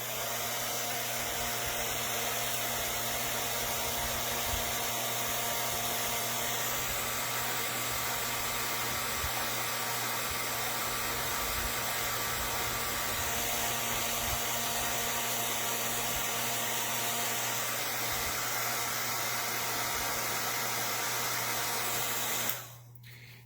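Hair dryer blowing to dry paint on an abstract bloom artwork, a loud, constant roaring whoosh that runs steadily for over twenty seconds before cutting off abruptly at the end, with no voices.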